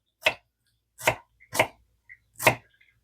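Four sharp knife chops cut through onions on a cutting board in a home kitchen, evenly spaced and close, with silence between the strokes.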